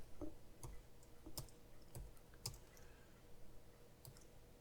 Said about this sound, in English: my typing is really off right now